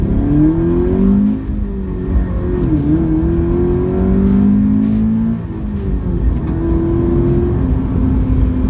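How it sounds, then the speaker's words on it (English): Subaru BRZ with the performance pack accelerating hard, a loud close engine climbing through the revs with rising tones, briefly dropping at each gear change, then pulling up again. "start and also accelerate aggressively"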